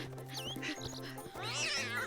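Cartoon cat meowing in a children's animated show, two or three short, bright, wavering cries over a music bed, moderately loud.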